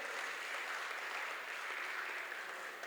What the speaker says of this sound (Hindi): वीर ताली से अभिनंदन करें वीरांगनाएं